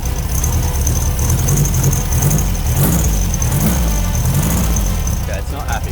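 A classic VW Beetle engine runs rough with one cylinder misfiring, a steady, uneven low chugging heard up close and loud for several seconds, with someone talking over it.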